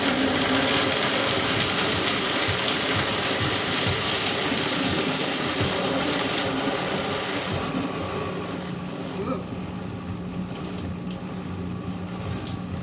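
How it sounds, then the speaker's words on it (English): A countertop blender whirs loudly and steadily as it mixes a thick chocolate-coconut protein ball mixture with cinnamon, its churning drone easing slightly in pitch and strength toward the end. "Let's see if it's going to blend. Here, it's kind of going to be loud."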